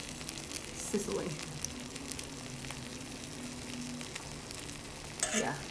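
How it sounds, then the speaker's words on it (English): A croque monsieur filled with Saint-Nectaire cheese sizzles quietly in a frying pan, a soft steady crackle with occasional clinks and faint voices nearby. "Sizzling."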